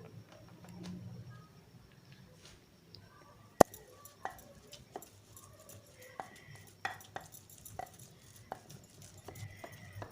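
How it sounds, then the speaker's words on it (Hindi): A spiced kebab mixture with ground coriander and garam masala is pounded in a pot, giving irregular sharp knocks and clinks spread over several seconds with quiet stretches between them. "अब इनको अच्छी तरह थोड़ा सा फिर कूट लेंगे।"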